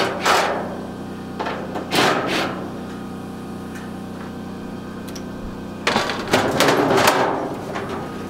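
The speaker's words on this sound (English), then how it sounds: "Pull these bolts out and see what happens." Metal clanks and thuds while bolts are pulled from a dryer being scrapped for shred and copper wire, heard as a few sharp knocks early on, then a louder cluster of rattling bangs near the end over a low steady hum.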